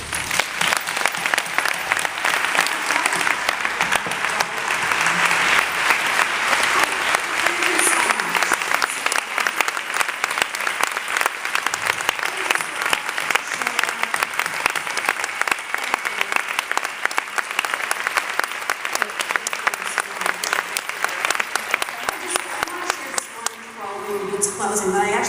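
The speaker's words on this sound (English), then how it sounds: "And applause for Nancy." A crowd at a Donate Life and eWomenNetwork event applauds Nancy with loud, sustained clapping that runs unbroken for about 25 seconds before tapering off at the end.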